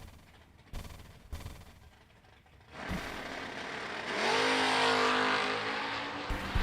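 Camaro and S10 drag race cars at a motorsports event, a few sharp pops and rumbles before engines build into a loud rising roar as they accelerate down the strip.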